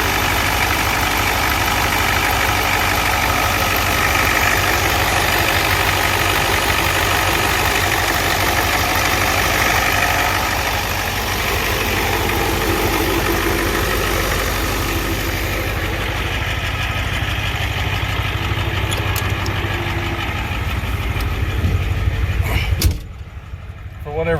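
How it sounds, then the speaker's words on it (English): A Ford 7.3 IDI diesel engine idles after a fuel filter replacement, a steady, loud rumbling clatter that runs unbroken until it cuts off abruptly near the end, followed by a brief clunk. "First blush, the engine sounds happier."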